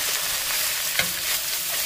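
Pork belly with onion and scallion stir-fried in a wok, a dense, loud, steady sizzle with a sharp clank of the spatula about midway, no voices.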